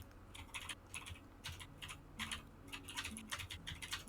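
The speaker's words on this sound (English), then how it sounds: "Typing away." Steady, brisk typing on a computer keyboard: dense runs of close, crisp key clicks with brief pauses, over a low background hum.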